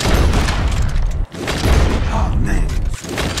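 Gunfire in the Red Dead Redemption 2 video game, with loud, booming shots and mechanical clatter filling the scene in close, rapid succession and barely a pause.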